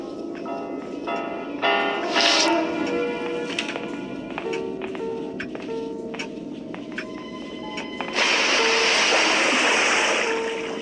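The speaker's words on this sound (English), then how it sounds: "Bell." A bell in the video game Granny Chapter 2 rings in several loud, resonant strikes over a busy game soundscape, followed by a bright, hissing burst near the end.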